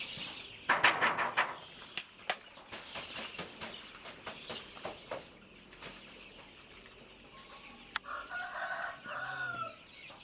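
Chickens in a coop on a poultry farm cluck and squawk in scattered bursts, with a rooster crowing and sharp rustles of movement, the calls fairly close but moderate in volume.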